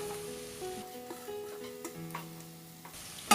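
Capsicum with cabbage being stirred in a frying pan, the steady sizzle joined by scraping and tapping of the spoon against the pan throughout, fairly close and moderately quiet.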